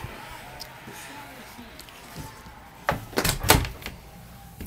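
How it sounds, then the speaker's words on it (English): A room door is shut in a home: faint shuffling first, then a burst of close, sharp knocks and a thump as the door closes, with light rustling after. "Let me go shut my door."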